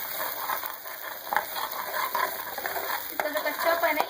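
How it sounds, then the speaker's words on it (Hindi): Gram flour batter mixed with water being stirred into spiced green chillies in a hot pan, a continuous sizzle with scraping spoon strokes and soft wet churning, close and alone. "जो मैंने बेसन का जो मैंने तैयार कर लिया था वाटर के साथ, ये मैं इसमें ऐड कर दूँगी, ठीक है। और इसके साथ ही इसको हम भूनेंगे।"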